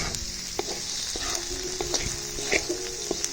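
Garlic sizzles in a hot pan as it is stir-fried for a dish of yellow burrhead greens. A bright, constant hiss runs throughout, with spatula taps and scrapes scattered across it at close range.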